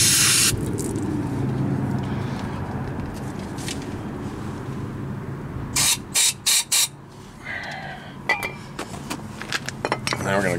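Spray rinsing out a front brake part on a 2006 Toyota Corolla: a bright hiss at the start, later bursts of short sprays broken by metallic clinks and scrapes, with someone speaking over parts of it.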